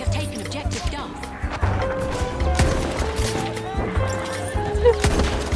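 A horse in Battlefield 1 whinnies and gallops through a battle, its neigh standing out over hoof clatter, scattered gunfire and explosions, with a player talking over the chaos.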